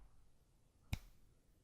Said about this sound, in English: He snapped his fingers.